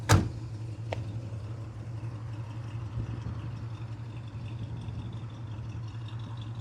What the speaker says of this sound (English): Exhaust sounds perfect. Has a nice rumble to it that's not too loud.